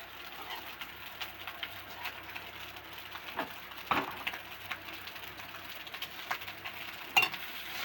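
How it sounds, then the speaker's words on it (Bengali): Biryani rice with meat frying in a pan, a steady low sizzle broken by scattered stirring scrapes and knocks, with one sharper clank near the end. "নাড়ার পরে এই যে মাংস কষা রয়েছে, এটা আমি ভাতের ভিতরে দিয়ে দেব।"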